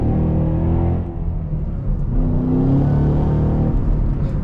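A 2014 SVT Shelby GT500 engine drones under load while driving, a loud, close, rumbling tone that shifts pitch as the revs rise and fall, with no talking.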